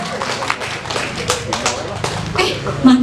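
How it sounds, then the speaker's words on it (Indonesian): A group claps steadily with a dense patter of hands at a vocational high school student showcase, while voices talk over the applause. "Selamat tepuk tangan dulu untuk karya seni dari anak TBSM."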